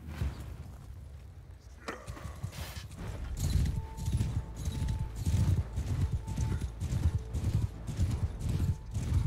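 Horse hooves galloping in Mount & Blade II: Bannerlord, a steady rapid clip-clop that runs close and loud through most of the stretch, with a brief whinny-like tone and battle noise mixed in.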